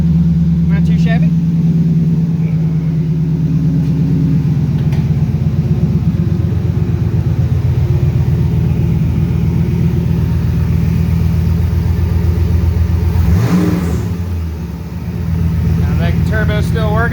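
An F-body car with a turbo runs and revs after a Griffin radiator install, a loud steady engine rumble with a brief rise in pitch partway through, with people talking over it.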